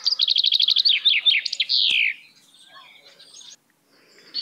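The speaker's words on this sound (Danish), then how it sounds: "Bogfinken lever af insekter og frø, og er en af de mest almindelige fugle, vi finder i Danmark." A common chaffinch sings a loud, clear song from a hedgerow, a fast rattling series of bright notes speeding into a descending flourish, followed by quieter chirps and distant calls.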